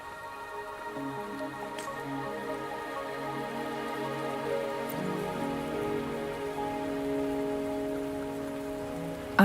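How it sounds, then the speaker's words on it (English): Steady rain falls in a video game world, a continuous even hiss of drops on surfaces with a soft tonal music bed underneath, constant and moderately loud throughout with no voices. "Don't worry, the rain won't last much longer."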